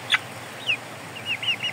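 Chickens in a coop, including young Shamo gamefowl, give a few short faint clucks and chirps spread across a quiet background, near and alone without talk.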